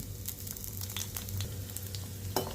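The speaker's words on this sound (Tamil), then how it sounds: "தாளிப்பு வடகம் போட்டுட்டு அதை நல்லா அப்படியே ஒரு கிண்டி கிண்டி விட்டு நல்லா பொரிய எடுத்துக்கலாம்" Thalippu vadagam seasoning frying in hot oil in a clay pot for ennai kathirikai kuzhambu, stirred as it sizzles: a continuous close crackle with scattered sharp pops, a low steady hum beneath, and a louder clink near the end.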